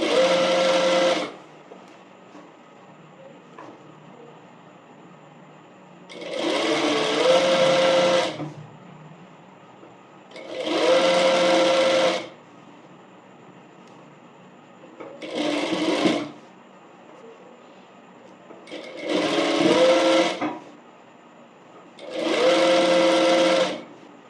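A sewing machine stitching the hem of an umbrella frock, running in six separate bursts of a second or two each, loud and close, with quiet pauses between while the fabric is turned.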